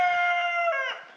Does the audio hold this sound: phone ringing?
no